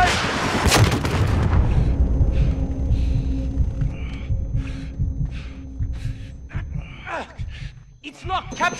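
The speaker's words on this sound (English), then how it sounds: "Missiles incoming!" Incoming missiles blast near a tunnel in Call of Duty Modern Warfare 2019, loud booming impacts early on, then rumble fading under shouted voices and later gunfire-like bursts.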